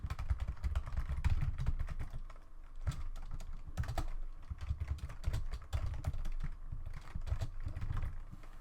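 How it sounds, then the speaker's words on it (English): Rapid clacking keystrokes on a computer keyboard come in uneven bursts and short pauses, close and clear, while Minecraft plugin code is being written. "sorry if I'm typing slow."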